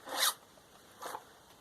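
Hand file rasping across chainsaw chain cutting teeth, one tooth after another while sharpening a chainsaw for cutting firewood: two separate scraping strokes, the first louder and brighter, the second softer, each under half a second, close up and with no talking.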